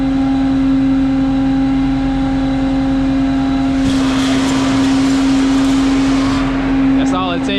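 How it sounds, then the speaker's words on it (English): A vacuum tanker truck unloading cooking oil hums steadily, then a hatch opens and a loud rush of air pours in for a few seconds, a harsh hissing burp over the constant drone that fades back near the end. "I'm gonna open it up and it's gonna burp it. So it's gonna just bring a lot of air in there."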